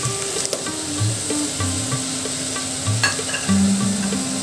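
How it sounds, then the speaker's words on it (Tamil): Vegetables sautéing in a pan for Tamil-style masala toast, a steady close sizzle and hiss with the scrape and clink of stirring throughout, no talk. "எல்லாத்தையும் சேர்த்து ஒரு 5 நிமிஷம் வதக்கிக்குவோம்."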